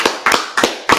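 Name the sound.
audience clapping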